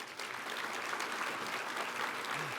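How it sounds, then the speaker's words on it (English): A university event audience gives a round of applause for student panelists, a steady, moderately distant clapping that holds evenly for a couple of seconds. "How about a round of applause for them?"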